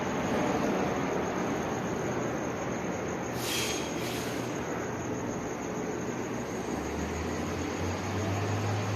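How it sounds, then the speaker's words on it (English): Broad, roaring rumble of a jet airplane passing directly over an exhibit hall, loud and steady throughout, with a low drone rising toward the end. "That's the sound of the airplane flying directly over the exhibit hall"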